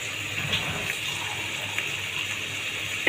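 A mug of water poured into a pan of pumpkin and fish curry, a steady gushing splash close by with no talk.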